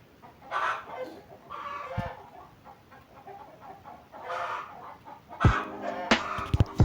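A chicken in a mobile doll makeover video game clucks in short bursts, fairly faint against a quiet background. Brighter game sound effects chime in near the end.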